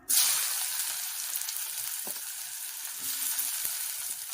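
Small onions drop into hot coconut oil in a kadai and burst into a loud, steady sizzle that crackles and hisses throughout, close and unbroken.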